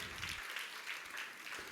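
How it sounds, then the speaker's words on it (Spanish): A church congregation claps in a brief, steady patter of applause, soft and somewhat distant, with no voices over it. "Denle un fuerte aplauso al Dios que le dio la vida."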